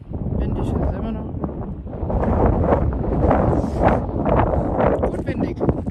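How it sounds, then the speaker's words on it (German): Wind buffets the microphone in gusty, roaring surges on Mount Teide, a volcano, with people talking under the steady rushing noise. "Windig ist immer noch."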